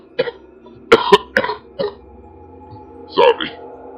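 A string of short, sharp coughs from laughing, in small bursts, close up, with quiet pauses between them.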